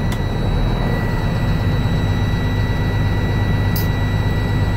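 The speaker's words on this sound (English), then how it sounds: "I'm just gonna go ahead and bump the throttle." Truck engine at a steady loud drone as the throttle is bumped, a constant rumbling roar that holds the same level throughout with a thin whine above it, close and heard alone.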